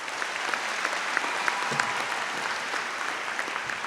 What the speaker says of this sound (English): I just want to have a round of applause for all of our guidance counselors.